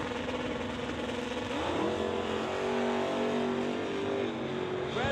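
A Dodge Dart and a 1971 Camaro launch at a drag strip, with loud, sustained engine roar rising in pitch as the cars accelerate away.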